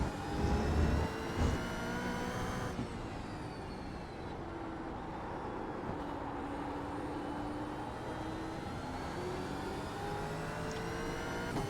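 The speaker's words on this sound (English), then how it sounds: "Love downshifting this car." A Supercars race car engine in the iRacing simulator at Watkins Glen, a loud continuous roar that shifts pitch through gear changes and downshifts, heard without any speech.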